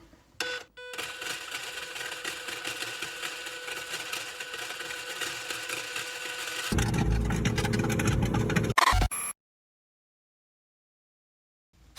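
An LDRC LD1899 metal RC drift car gives off a steady electric motor whine with gear noise, then a rougher, louder crackling burst before cutting to silence.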